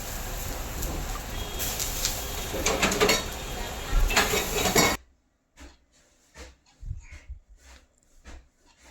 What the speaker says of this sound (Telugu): మొత్తం వేసిన తర్వాత ఒకసారి కలుపుకోవాలి ఎందుకంటే అడుగు అంటకూడదు